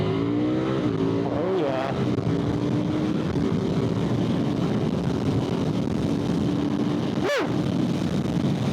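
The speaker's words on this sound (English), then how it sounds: "So right off the bat, the power on this motorcycle feels incredible." KTM 990 RCR motorcycle engine howling on a race track, loud and close with rising and falling revs through shifts, a sharp whooshing pass near the end, and a rider exclaiming over it.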